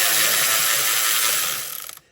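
Fast, loud ratchet clicking in a continuous burst while removing bolts from a Mercedes ML 320 intake, slowing into a few separate clicks before stopping.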